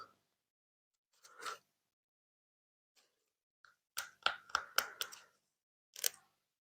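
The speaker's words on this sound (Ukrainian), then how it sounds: "І в кінці скотчем поверх ось цих цінників." Adhesive tape pulled off a roll and pressed down over price-tag labels on a seedling tray for pepper sowing, heard as a short rasp followed by a quick cluster of sharp crackling strips and a final rip, close and quiet.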